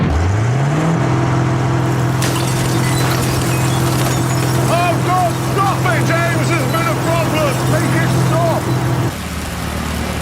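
A gritter truck fires road grit at a car. A motor spins up with a rising whine, then holds a loud, steady whirring drone with a rough hissing spray, and cuts off abruptly near the end.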